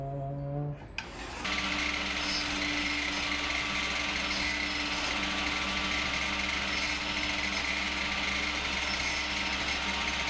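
A table saw cuts wood for replacement grand piano hammers, starting up and then running as a steady, loud whine and rasp for several seconds.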